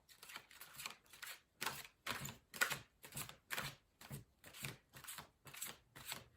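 Tarot cards are shuffled in a steady rhythm, about a dozen crisp riffling bursts in a row, close up with no talking.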